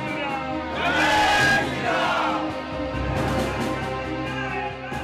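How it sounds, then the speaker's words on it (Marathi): BJP supporters at Vidhan Bhavan celebrate election results with loud crowd cheering and shouted slogans, a swelling roar that peaks early, then settles into sustained chanting and whoops from many voices. "विधान परिषद निवडणुकांचे निकाल जाहीर झाले आणि भाजपच्या गोटात असा जल्लोष सुरू झाला"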